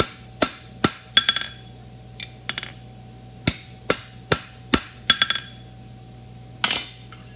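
A hammer strikes a fine stem punch in a series of sharp metallic taps, some single and some in quick doubled clusters, with pauses between, close and fairly loud against a faint steady hum.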